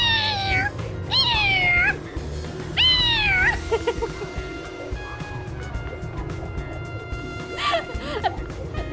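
A cat meows several times in the video game Master Detective Archives: Rain Code, drawn-out rising and falling cries over a low background hum, with gaps of quieter noise between calls.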